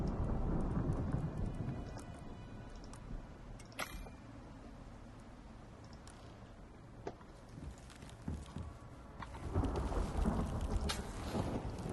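A thunderstorm in the survival game Icarus brings steady rain with sharp crackles and low rumbles of thunder that swell louder toward the end.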